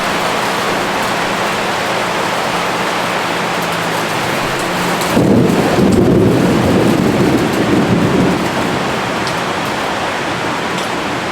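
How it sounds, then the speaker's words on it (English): Heavy rain pours steadily in a thunderstorm in Cambodia, a loud, even hiss, broken midway by a deep rumble of thunder that swells for a few seconds and then fades back into the downpour. "There's something so comforting about thunderstorms."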